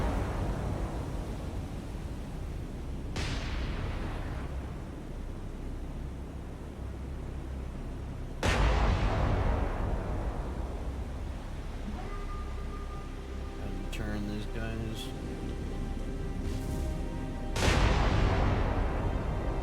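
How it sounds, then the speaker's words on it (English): Naval gunfire and explosions in the War on the Sea video game: three separate deep booms several seconds apart, each with a sharp onset and a fading rumble, over a constant sea and engine drone, with a brief spoken remark. "he's just suffered an explosion that I didn't get to see"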